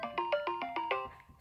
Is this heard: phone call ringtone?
yes